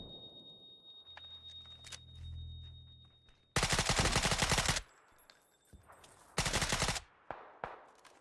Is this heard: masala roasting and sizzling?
no